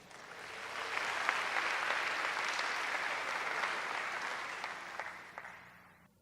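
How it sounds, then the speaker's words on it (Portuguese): Audience applause at a family church service, clapping swelling up gradually, holding steady with a few sharper claps standing out, then tapering off near the end. "Você pode dar um aplauso para Jesus?"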